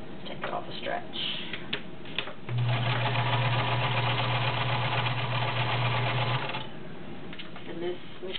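A vintage 1970s Kenmore model 1560 convertible sewing machine with a size 16 needle stitches through five layers of Levi's denim, a steady fast mechanical whirr lasting about four seconds, with lighter ticking and handling before and after.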